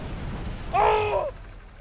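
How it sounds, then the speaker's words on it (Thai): A T14 tank cannon in the Roblox War Tycoon game fires a single heavy shot at a bridge, a short booming blast with a ringing tonal tail standing out over steady background game noise. "ผมลองยิงปืนใหญ่ใส่สะพาน"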